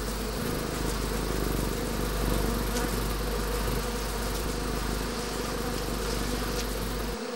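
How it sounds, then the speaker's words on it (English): Agitated bees swarm around honeycombs as a death's-head hawkmoth raids the hive, making a dense, continuous close buzzing hum with a low drone beneath, steady throughout and free of talk. "surrounded by belligerent bees."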